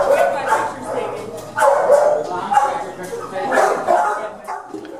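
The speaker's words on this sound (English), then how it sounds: "when the walkers arrive, the dogs get very excited and very loud." Excited dogs in a kennel bark, yip and whimper loudly and close by in overlapping bursts, the noise swelling and easing across the moment.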